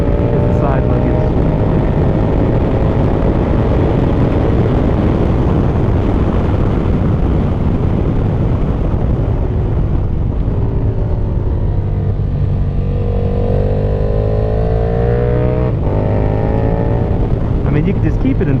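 A KTM Super Duke GT motorcycle engine drones loudly while riding, with steady roar and wind rush, rising and falling tones as it shifts through gears, and a rider talking throughout.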